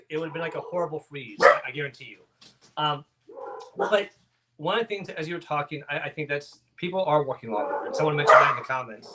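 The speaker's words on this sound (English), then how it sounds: "Sorry for the barking dogs." Dogs bark intermittently in the background of an indoor conversation, their yips and woofs partly buried beneath a person talking continuously.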